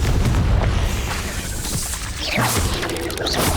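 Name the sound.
explosion from Bombarda/Confringo spell in video game Hogwarts Legacy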